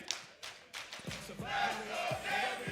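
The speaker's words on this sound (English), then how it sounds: "Can they go louder? Can they chant more for Game In?" A large esports crowd at a Brussels fighting-game tournament chants for a player, voices swelling into a loud, sustained roar with rhythmic pulses that builds toward the end.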